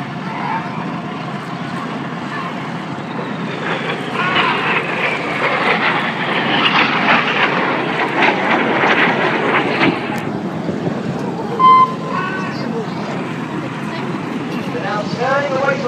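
Red Arrows jets making a low synchro flypast at an airshow, a broad continuous roar that swells through the middle and stays loud throughout, with a commentator speaking over it.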